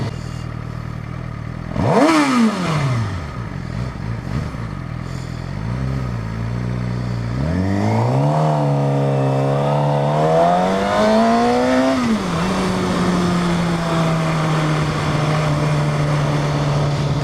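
A big motorcycle engine while riding, loud and close: a sharp rev, then throttle rising and falling through gear changes into a steady cruising drone with wind rush.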